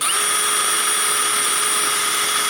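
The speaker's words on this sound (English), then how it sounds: "drill bit and just make a little pilot hole right in there." A power drill boring a small pilot hole during a Packard Performance Pro R supercharger install, a steady high whine running continuously and fairly loud throughout, with no talking.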